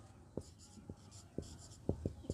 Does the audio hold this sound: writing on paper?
yes